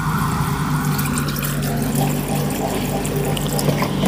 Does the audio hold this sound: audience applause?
no